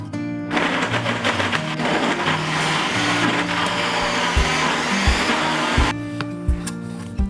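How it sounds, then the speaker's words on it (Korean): A Cuckoo cross-cut blender crushes ice into fine snow-like shavings, a loud continuous grinding roar with irregular rattling thumps that runs almost throughout, with a brief drop in intensity near the end. "얼음은 빙수기가 부럽지 않을 정도로 아주 곱게 갈아지더라고요."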